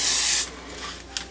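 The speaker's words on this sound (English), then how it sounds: "We're going to spray it." Cooking spray is shot onto a foil-covered sheet pan in one short, loud, airy hiss that cuts off abruptly, followed by a faint rustle and a small tap, with no talking.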